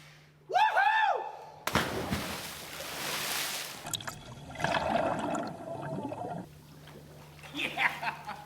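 A person cliff dives off a roughly ten-foot drop into clear ocean water, hitting with one loud, broad splash that roars for about two seconds, followed by sloshing and bubbling water, with whoops and voices around it.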